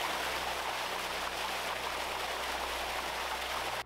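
Water pours steadily into an off-grid water tank with a liner, a loud, continuous rushing splash that holds even throughout and stops abruptly at the end.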